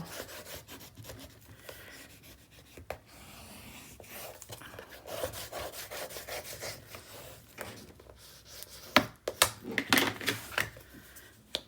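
Close, dry rubbing and scraping of a burnishing tool over paper on a handmade mini album page, irregular strokes growing quicker and sharper toward the end, with no talking.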